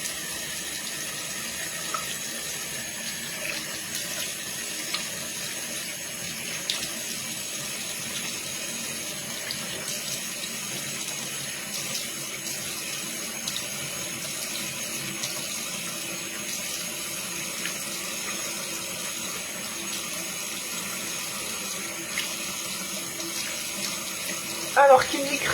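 Water runs steadily from a tap for a long stretch during a face rinse, a soft continuous splashing hiss heard close by, with faint voices and a brief clatter near the end.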